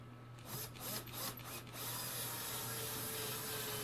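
A cordless drill's torque clutch collar is turned to a low setting during a five-string aluminium bass bridge install, giving a quick run of close ratcheting clicks before a steady mechanical whir.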